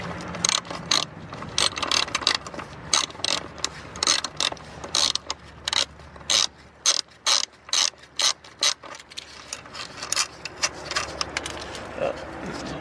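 A 13 mm ratchet clicks while turning a bolt on a BMW E46 during a motor mount swap, making rapid rhythmic bursts of close, crisp pawl clicks that repeat in short strokes with brief pauses between them.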